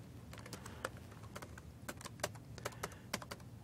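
Keyboard typing during a web development tools talk, a quick run of separate key taps with a few louder strikes, fairly faint and close with no voice over it.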